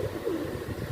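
A pigeon cooing close by, one soft, low, rolling coo lasting under a second.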